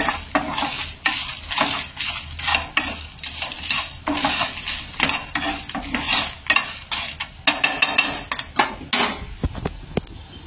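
Fenugreek seeds, cumin, coriander seeds and black pepper fry in a pan for temple-style tomato rasam, with steady close sizzling and repeated scraping stirs of a spoon against the metal, no talking.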